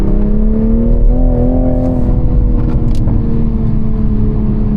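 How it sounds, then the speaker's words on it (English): A 2022 Toyota Supra 3.0 with the B58 inline-six engine revs on a rainy drive, a smooth, loud, steady engine note that swells slightly and holds, heard from inside the car with no talking. "the B58 has an interesting sound for an inline-six to me"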